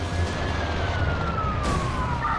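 Police car siren in the video game Watch Dogs, a steady wailing tone that slowly sweeps downward over a constant low engine rumble, with no talk over it.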